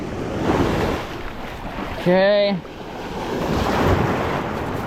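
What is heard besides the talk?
ocean waves and surf on a beach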